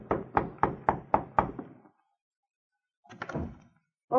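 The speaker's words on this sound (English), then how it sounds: "A short time later, the two Mounties arrived at the Victoria Hotel and knocked on the door of Norma Roswell's room." A hotel room door is knocked on in a radio drama: six quick, evenly spaced raps, a pause, then a shorter cluster of knocks.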